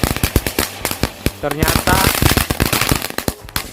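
Dino egg firecrackers (mercon telur dino) set out in a heart shape burst in a rapid, crackling string of sharp pops, loud and close, with brief talk heard between the bangs.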